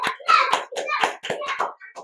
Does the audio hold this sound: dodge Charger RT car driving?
no